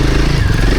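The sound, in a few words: off-road motorcycle accelerating on rough trail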